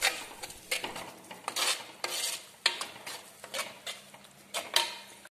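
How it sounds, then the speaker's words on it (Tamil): Ground paste stirred into anchovy fish curry in a pan: a close, repeated rhythm of spoon scrapes and clinks against the metal, with a faint sizzle underneath. "அதையும் சேர்த்து நல்லா வணக்கிக்கோங்க."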